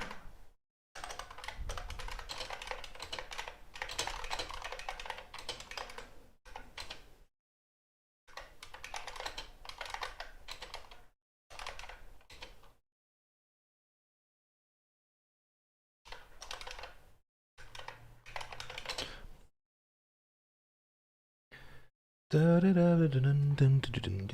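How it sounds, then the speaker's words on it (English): Computer keyboard typing heard during a late-night online hangout, bursts of quick clicking keystrokes separated by silent gaps, moderately faint, with a louder voice-like sound entering near the end. "Now I'm lying in the dark listening to the sound of typing from the other side of the world."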